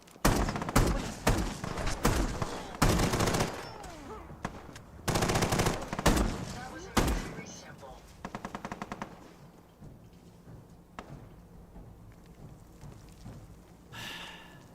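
Enemy gunfire in the Helldivers video game, with loud rapid automatic bursts and single shots in the first seven seconds, a short rattling volley near eight seconds, then quieter background rumble and a late burst.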